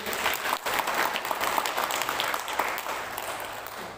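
A crowd claps steadily and loudly for several seconds, a dense, even patter of many hands with no voices standing out.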